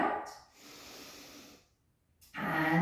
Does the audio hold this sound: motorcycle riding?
no